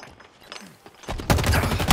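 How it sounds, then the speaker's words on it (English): Halo Infinite multiplayer gunfire breaks out after a quiet, muffled stretch, turning into a loud, sustained burst of rapid shots near the end. "Taking fire."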